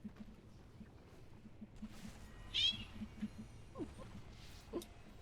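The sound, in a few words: cat meowing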